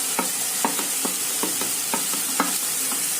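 Spices and turmeric fry with a steady hiss in a pan for an Odisha chicken and potato curry, while a spoon scrapes and stirs in a regular rhythm of about seven quick strokes.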